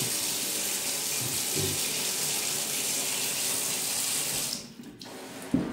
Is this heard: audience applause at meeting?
no